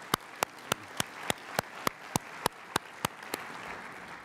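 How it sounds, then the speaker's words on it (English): Applause for the Ontario Centre of Excellence team fills a conference room, a soft crowd of clapping with a steady, rhythmic unison beat running through it, sustained at moderate distance. "Yes, please give them a big round of applause."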